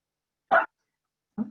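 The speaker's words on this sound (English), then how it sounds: "And that's my dog." A dog barks twice close by, one loud sharp bark followed by a softer, shorter one after a brief silence, with nothing else around.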